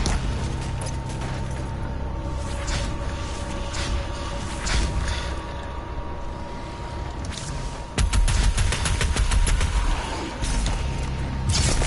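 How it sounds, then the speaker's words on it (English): Gunfire in the Doom Eternal video game, with a shotgun's sticky bomb mod and a heavy cannon firing in dense, rapid bursts among mechanical clatter and booming impacts, loud and continuous, with no one talking. "you can fire off 3 sticky bombs, 1 to stun them, 2 to damage them, and then you can just finish them off with the heavy cannon"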